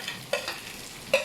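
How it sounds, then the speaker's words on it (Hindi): Cut okra being stirred in a hot pan with spices, a quiet sizzle broken by two short scraping spatula strokes, close and brief. "अब हम इसके अंदर भिंडी डाल देंगे जो हमने काटी हुई थी और इसको मिक्स कर लेंगे"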